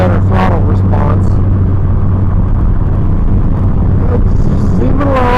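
Custom 1973 Ford Pinto running down the road, its engine a steady loud drone with rising throttle notes near the start and end, heard from inside the car.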